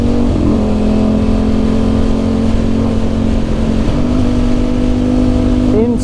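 A KTM 1390 Superduke or Ducati Streetfighter V4S engine holds a loud, steady drone close by, with its tone rising sharply right after a gearshift near the end.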